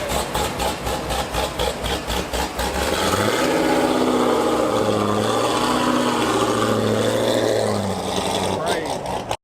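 A Hennessey Venom F5 Roadster supercar engine rumbles loudly nearby, a pulsing idle shifting into a steady, strong exhaust drone with rising and falling pitch.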